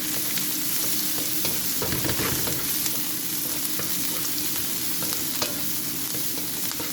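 Onion and garlic fry in a pan for pork afritada, sizzling loudly and steadily with occasional scrapes from stirring, close up and with no talking.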